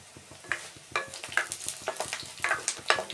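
Browning onions sizzle steadily in a pan while a spoon stirs them in regular scraping strokes, close and fairly quiet with no voices.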